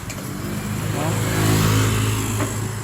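Road traffic on a two-way road at rush hour, cars and motorcycles passing with engines revving and droning steadily at moderate distance, with a voice talking in the background.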